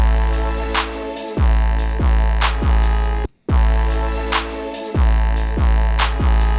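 A booming 808 bass line, without its kick top layer, with deep sliding notes over a looping beat, heavy and loud, with a brief drop to silence midway.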